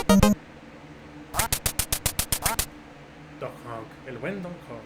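Quacks from the NES game Duck Hunt ring out, with a sharp electronic burst followed by a rapid run of about ten evenly spaced synthetic quacks, then softer warbling game tones.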